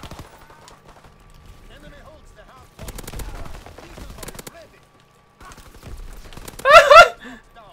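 Rapid bursts of gunfire in Call of Duty WW2 during the Hordepoint mode come in short clusters, with a louder, brighter volley near the end; a player talks casually between the shots.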